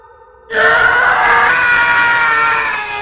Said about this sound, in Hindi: मैं चीखता हूँ